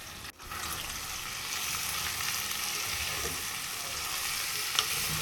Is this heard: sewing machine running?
no